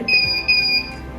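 The alarm buzzer of an IoT ZigBee prison-break monitoring system gives a false alarm, a loud, steady high-pitched electronic tone beeping in two long pulses.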